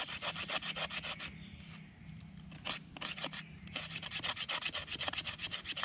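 A blade scrapes bamboo into fine shavings for a bamboo fire-saw fire, making rapid, rhythmic, close rasping strokes, steady apart from one brief pause, with no talk.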